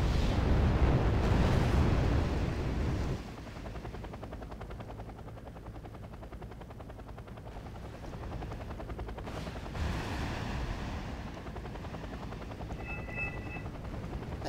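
Anti-air fire and explosions in the Wargame: AirLand Battle video game, with helicopters and planes overhead: a loud roaring burst opens, then a steady rumbling battle din continues with scattered blasts and a brief high whine near the end.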